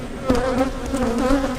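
Honey bees buzz in a dense, close, steady drone during a March hive inspection, the hum wavering slightly in pitch.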